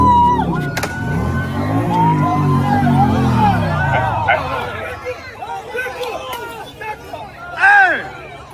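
A crowd makes agitated hubbub and shouting during a motorcycle attack among the people. An engine revs and moves through the scene, and voices rise and fall with one loud burst near the end.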